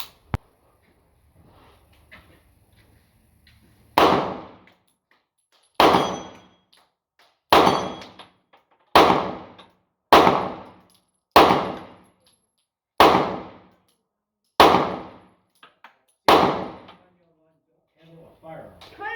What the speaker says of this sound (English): just popping the steel with this thing, just so you can see the function